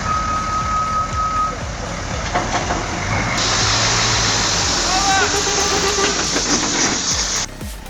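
A Mercedes-Benz Actros logging truck labours through deep mud, its engine a heavy, steady drone with a high, steady warning tone over it, and a louder surge midway.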